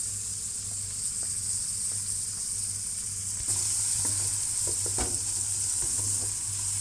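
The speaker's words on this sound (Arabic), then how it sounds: "ونقلب. حنضيف الفلفل الرومي،" Bell peppers stirred and frying in a pan with carrots for a kabsa: a steady close sizzle that intensifies midway as the peppers go in, with scraping stir strokes and light clatter on top.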